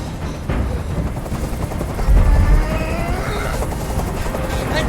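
A helicopter hovers overhead during a hostage standoff in the video game Detroit: Become Human, its rotor throb loud and constant with a heavy low thump swelling midway, and no speech.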